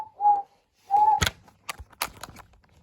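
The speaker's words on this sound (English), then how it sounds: "And he had a whistle that sounds like this." James the tank engine, a six-wheeled steam locomotive numbered 47556, gives two short steady whistle toots, followed by a quick series of sharp clanks and knocks.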